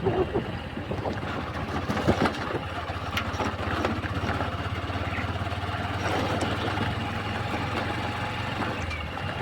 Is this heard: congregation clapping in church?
no